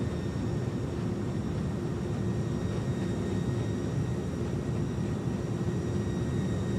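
Steady, loud broadband roar of an iniBuilds A300 airliner's thrust reversers deployed after touchdown in a flight simulator, holding constant and close throughout with no talk.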